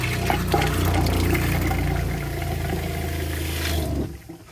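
Water surges through the line of a 1990 Roadtrek Versatile 190 camper van as its freshwater pump primes, a loud steady rushing and humming flow that cuts off abruptly near the end, with no voices.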